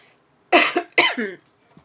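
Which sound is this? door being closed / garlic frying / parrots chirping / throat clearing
throat clearing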